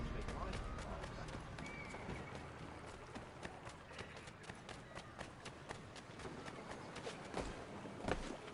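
Horse hooves clop in the video game Assassin's Creed 3, a quiet, irregular patter of steps under speech, with a louder thud near the end.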